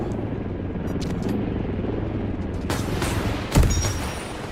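A Stinger missile launched at the player's helicopter in Delta Force, a sudden sharp whoosh and bang cutting over the loud, constant rotor roar and distant gunfire.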